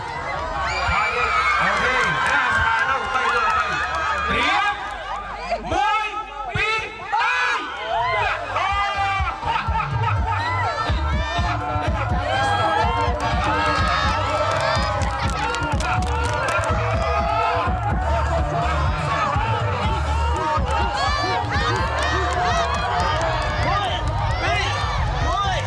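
A crowd cheers and shouts at a temple boat race in Cambodia, a loud, dense roar of many voices close by with chatter and laughter mixed in, sustained the whole time.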